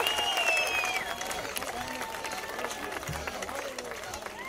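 Concert audience applauding a bassist at a live Latin music show in Curaçao, a dense wash of clapping and crowd noise with a voice speaking over it.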